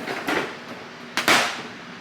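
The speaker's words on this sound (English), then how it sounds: "I can go back to my curved fishtail gouge and just start cleaning some of this away." A curved fishtail gouge cuts into a wooden knight figure during carving: two short, crisp scraping chips, the second louder and sharper, close against a quiet background.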